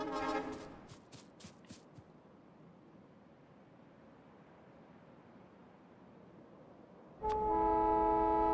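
A train horn blares loud and sustained near the end of a video-game scene, sounding after a stretch of low rumbling ambience and a few faint earlier toots.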